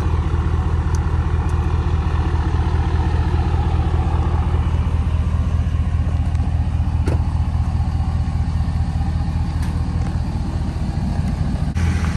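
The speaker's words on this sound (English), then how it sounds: "While my truck was just warming up here" A lifted truck idles while it warms up, giving a steady, loud, low engine rumble that continues unchanged for the whole stretch, with no talking.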